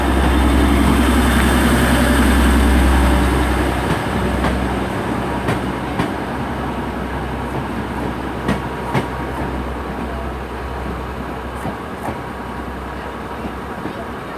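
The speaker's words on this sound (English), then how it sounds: "departing out now is the 1351 service to Leeds by Northern Trains" A Northern Trains class 150 unit departs Huddersfield station for Leeds, starting with a loud engine rumble that eases into a steadier rolling clatter with occasional sharp clicks.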